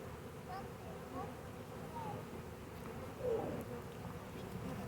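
A honey bee swarm at a ball field hums as a faint, steady drone with occasional individual bees whizzing close by. A person talks quietly over the buzzing.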